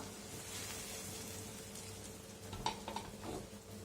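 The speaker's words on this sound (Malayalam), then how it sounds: "നമ്മുടെ കറി ഫിഷ് പീസസ് ആഡ് ചെയ്ത് കഴിഞ്ഞിട്ട് നന്നായിട്ട് തിളയ്ക്കുന്നുണ്ട്." Spicy red fish curry made without coconut simmers in a pot at low volume, a soft bubbling hiss with a few close clinks near the end as the pot is swirled, with no talking.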